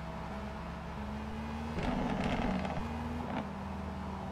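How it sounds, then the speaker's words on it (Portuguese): Low, steady video-game van engine drone that sounds like a V12, with a rising throaty roar in the middle, like a revving engine, continuous and fairly close. "essa van aqui tá com barulho de V12"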